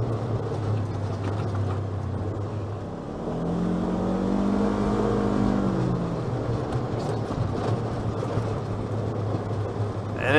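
A 2017 Polaris RZR 1000 side-by-side driving along a trail, its engine a steady low drone that swells briefly in the middle under light throttle, continuous and fairly close.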